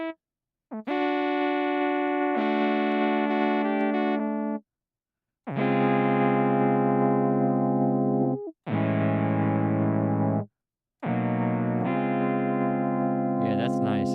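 A Boss GM-800 guitar synth plays an electric piano tone with effects and reverb, sounding sustained chords in four separate phrases broken by short silences, with no talking.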